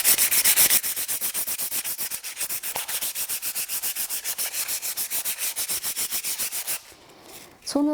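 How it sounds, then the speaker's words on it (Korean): Wood hand-sanded with 400-grit sandpaper in a woodworking class making a wooden notebook, rapid rhythmic back-and-forth scrubbing strokes, close and loud, stopping near the end before a brief squeak. "마지막으로 400방으로 조금 더 부드럽게 나무를 다듬어 줄 거예요."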